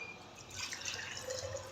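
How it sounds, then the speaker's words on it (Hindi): Water is poured into an empty jar to make a coffee banana smoothie, a soft, steady trickling splash that starts partway through and stays quiet and close. "इसके अंदर मैं डालूँगी ये वाले 2 कप भर के पानी के"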